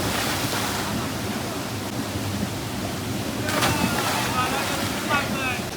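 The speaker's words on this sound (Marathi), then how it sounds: "इथून पाणी वाहत आहे" River water rushes and sloshes steadily around a swimmer, a broad continuous wash with wind buffeting the microphone and a few brief splashy bursts toward the end.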